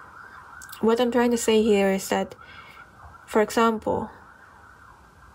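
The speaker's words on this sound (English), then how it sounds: "I excuse for the sirens outside" An emergency vehicle siren sounds outside, a steady distant wail running faintly beneath a person talking indoors.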